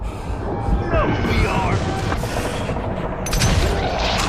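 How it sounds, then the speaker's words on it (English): In the Western shooter Gunslinger, a thrown stick of dynamite is shot in midair and bursts, a loud close boom and crackling blast over a busy backdrop of game gunfire and mechanical noise, with a later sharp burst near the end. "It feels so cool to shoot dynamite out of the air"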